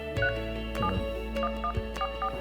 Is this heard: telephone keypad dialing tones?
yes